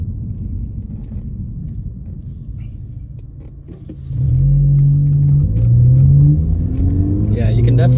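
Borla exhaust on a 2023 Honda Civic Sport Touring heard from inside the closed cabin, a low steady rumble that swells louder around the midpoint as the engine revs, with rising drone tones and a voice talking over it.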